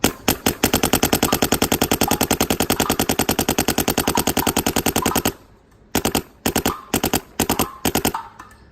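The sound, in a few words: 170R paintball marker shooting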